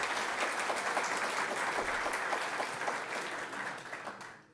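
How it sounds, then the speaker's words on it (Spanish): An audience at a pension reform seminar applauds, a dense, even burst of clapping from a roomful of people that gradually fades out toward the end. "Un aplauso también para ellos, por favor."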